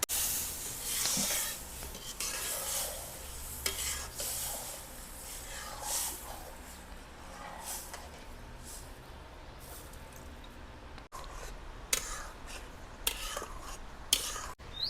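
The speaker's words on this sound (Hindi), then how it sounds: "इसको जितना भुन जाए उतना ही टेस्ट आएगा उसमें।" Semolina roasting for halwa in a pan beside a riverside hut, with repeated scraping and stirring strokes over a soft, continuous sizzle and hiss.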